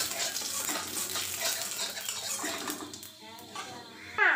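Radhuni spice hits hot oil in a karahi, giving a steady, fairly loud sizzle with bursty crackle that eases near the end, followed by a brief sharp clatter.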